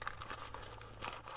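A car key dropped into a Faraday pouch gives a short, soft crinkle and rustle of fabric close by, with no voices.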